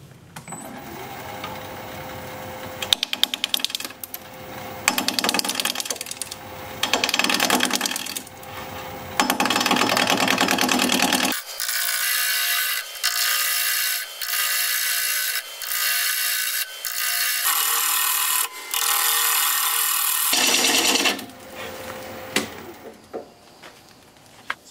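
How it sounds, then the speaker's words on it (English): Madrona wood spins on a lathe at 580 RPM while a 5/8 inch bowl gouge cuts it, giving a close, steady scraping and hissing that comes in repeated passes of several seconds each, some brighter and thinner than others. "We're gonna be turning at 580 RPM, 5/8 inch bowl gouge, mask and face shield on."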